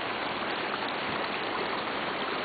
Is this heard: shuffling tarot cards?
no